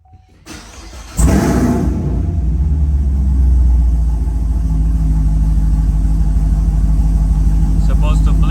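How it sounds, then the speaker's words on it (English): A Chevrolet Camaro engine cranks and catches with a loud surge, then settles into a steady, deep rumbling idle that continues close by; a few faint clicks come before the start. "Let's start the car."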